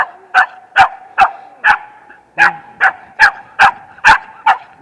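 A dog barks loudly and close by during a dog fight, in a steady series of about ten sharp, evenly spaced barks, with a brief pause midway.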